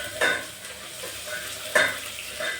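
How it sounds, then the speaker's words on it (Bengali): Onions tip into hot oil in a covered pan while cooking rajma, bringing sharp bursts of sizzling and frying with a couple of clattering pours over a steady, close crackle. "এবার পেঁয়াজগুলো ঢেলে দেবো।"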